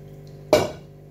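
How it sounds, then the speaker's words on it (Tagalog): Chopped onion drops into a metal cooking pot in a home kitchen, making one sudden clattering, rustling thud that fades over a fraction of a second. "Saka ko hiwa-hiwain at ipasok sa kaldero."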